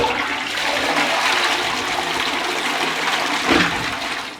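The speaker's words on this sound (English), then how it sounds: "I'm going to give this a flush and see how it goes." Caroma Uniset II S-trap toilet flushing after installation, a loud close rush of water swirling through the bowl, steady throughout with a small gurgling surge near the end.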